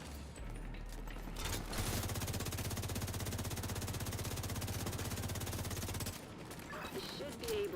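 Sustained automatic fire from the St. Elmo's Engine rifle in The Division 2, a rapid, steady stream of shots for about four seconds over a low rumble, with faint talk around it.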